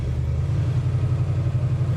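A 1967 Chevrolet Chevelle SS V8 with no headers and a 2.5-inch straight exhaust through Flowmaster mufflers idles loud and close, a deep steady rumble with a rhythmic low-end lope.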